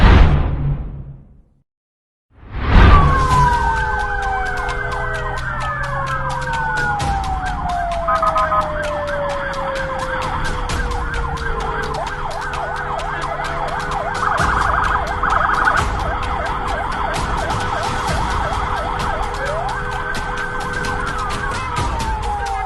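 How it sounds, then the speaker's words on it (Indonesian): Emergency vehicle sirens wail on an Indonesian road, a loud sweeping tone rising and falling continuously close by, with traffic rumble beneath and a brief silence before the sirens start. "sirine maupun rotator dari mobil pimpinan dan kelembagaan negara Republik Indonesia"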